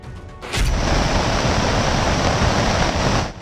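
Raging floodwater rushes after a cloudburst at Pithoragarh in Uttarakhand, a loud, steady broadband roar that begins abruptly and holds without break until it fades out at the end.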